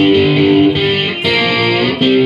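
Distorted electric guitar plays a song intro, ringing an open G riff then sliding up to C, sustained chords with chorus-like shimmer, loud and close, with a couple of audible slide shifts and no talk.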